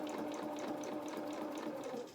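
Sewing machine running steadily with a quarter-inch seam around the edge of a fabric elephant doll head, a continuous quiet whirring hum without pauses or talk.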